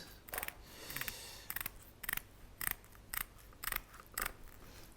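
Kitchen scissors cutting through a raw Dover sole along the belly cavity, giving about nine crisp, close snips in a steady rhythm with no talking.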